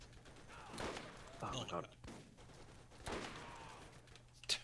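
Bursts of turret gunfire from the video game Borderlands crackle in rapid volleys at moderate volume, with a player's voice speaking over parts of the shooting.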